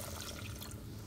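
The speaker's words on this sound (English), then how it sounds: "I'm gonna add first my milk on a very slow, low temperature" Milk poured into a saucepan over very low heat, a soft steady liquid trickle, quiet and close, running continuously without interruption.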